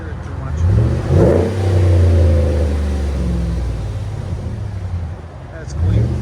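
RAM 1500 with a 5.7L HEMI V8 and an aftermarket exhaust revving, a loud deep engine surge that rises, holds and drops, then climbs again briefly near the end.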